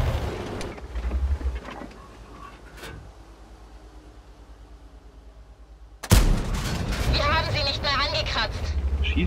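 A Panzer IV fires its gun in World of Tanks, a sudden sharp boom partway through after a quieter stretch, followed by sustained rumbling game noise and whirring; faint shots are heard earlier, and German voices talk over much of it.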